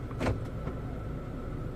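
A Mitsubishi Xpander Cross electronic parking brake engages automatically when shifted into park, a short motorized whir near the start over a steady quiet cabin hum, with no talk.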